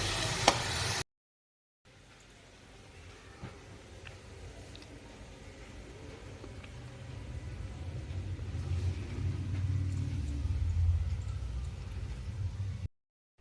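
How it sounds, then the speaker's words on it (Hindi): Vegetable curry roasts in a pan over a full gas flame with a low, steady sizzle and burner rumble that slowly grows louder, after a brief gap of near silence near the start. "तो अब इसको फुल गैस पे करते हैं इसकी भुनाई।"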